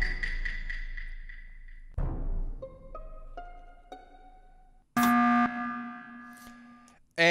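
A horn-like synth sample taken from a video game, heard as a loud close sustained tone, then a decaying stab, a run of rising chime-like notes, and a bright blaring final chord that cuts off abruptly, with no talking.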